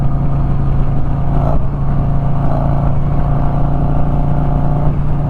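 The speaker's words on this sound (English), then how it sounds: "I'm just twist the throttle, baby" A Harley-Davidson motorcycle engine runs loud and steady as the throttle is twisted, a constant deep rumble with slight swells in revs, close by with no talk over it.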